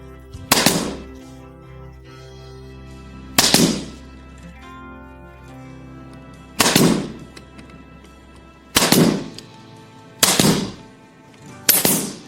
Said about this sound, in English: I use my nail gun, which uses nails so thin that they don't cause any damage to the wood.